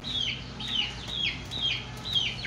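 Chickens and a rooster clucking together in a backyard flock, with repeated short rising calls at a steady pace that keep coming back over a constant rustling noise floor, close and moderately loud.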